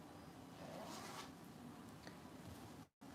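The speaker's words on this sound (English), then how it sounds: "zip up the zipper bag that they're all in" A zipper bag holding sugar gliders is zipped closed, faint close scratchy zipping strokes over a quiet room, with a brief dropout near the end.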